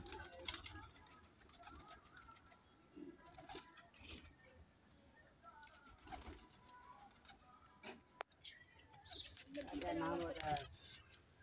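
White pigeons coo softly in repeated low calls on a rooftop while people talk nearby, with some rustling and a brief sharp knock.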